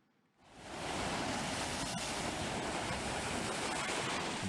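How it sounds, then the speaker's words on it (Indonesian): High waves crash continuously onto the Jepara coast of the Java Sea, a loud, steady roar of surf with wind after a quiet first half-second. "Hempasan ombak tinggi seakan tiada henti di pesisir Laut Jepara pada beberapa hari terakhir."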